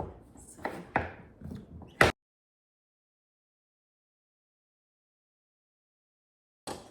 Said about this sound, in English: our butternut squash, we just want to cut into chunks about the same size as the Brussels sprouts